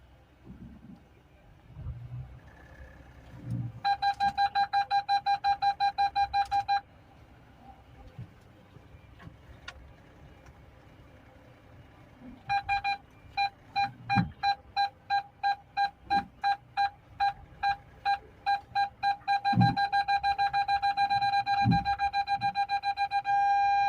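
A Renault Triber's reverse parking sensor beeps while the car backs into a parking spot: a burst of steady pulses, a pause, then faster pulses quickening into a long continuous tone as the car nears the obstacle, over faint engine rumble.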